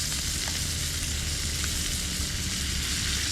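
Duck breast fries hard in a pan outdoors on a kayak, producing a dense, even, continuous sizzle close up with no talking.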